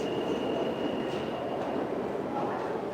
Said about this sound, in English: So you take the train, New York City Transit, obviously.